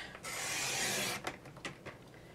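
Stampin' Up paper trimmer blade slicing through paper: one close, loud scraping swipe lasting about a second, followed by a few short clicks and taps, with no talk.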